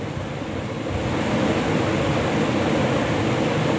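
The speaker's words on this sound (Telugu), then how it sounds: "మునగాకు వేసుకొని ఇలా వేయించుకోవాలి" Drumstick leaves fry in a pan with a steady, dense sizzle that stays even and fairly loud from start to finish, with no talk over it.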